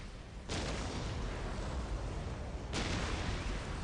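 Ork artillery in the strategy game Dawn of War Definitive Edition pounds as a loud, dense roar of blasts that swells in at the start and surges again near the end, with no speech.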